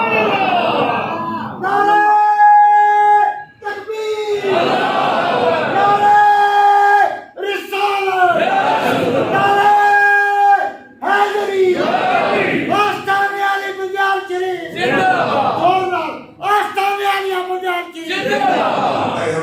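A large crowd chants in loud, rhythmic bursts, voices rising together in repeated phrases with short pauses between each call.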